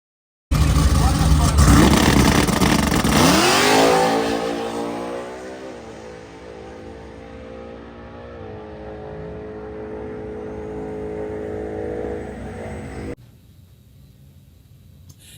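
A 2016 Ford Mustang GT drag racing in the Dial Your Own class makes a single pass, engine roaring loud and close at launch, then climbing through gear changes as it pulls away and fades to a steady distant drone.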